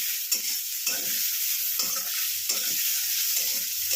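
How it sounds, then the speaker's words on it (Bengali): Vegetables sautéing in a pan give a constant bright sizzle, broken by regular rhythmic scrapes of a spatula stirring about every half second, close and alone. "সটে করে নেবো এগুলোকে"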